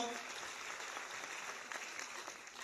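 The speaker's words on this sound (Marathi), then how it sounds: "एकदा सरांसाठी जोरदार टाळ्या होऊ द्या मित्रांनो" An audience at a rank celebration event gives applause for a speaker, a faint, distant, even wash of clapping that runs throughout at low level.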